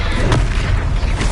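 A Confringo spell blast hits a troll in Hogwarts Legacy, a single booming impact with a muffled rumble that fills the short moment at loud, close range.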